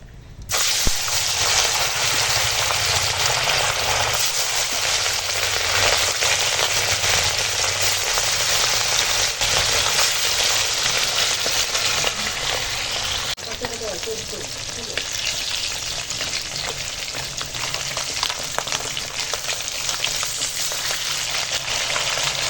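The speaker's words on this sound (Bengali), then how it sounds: "এবার মাছ ভাজবো" Fish pieces fry in hot oil in a kadai, giving a steady, loud sizzle and crackle that continues without a break for over twenty seconds, with no voice over it.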